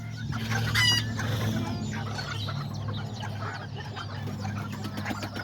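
Small chickens and roosters of the Kikiriki Azteca breed cluck and chatter steadily close by, with one sharp squawk early on over a low farmyard hum, and no voices.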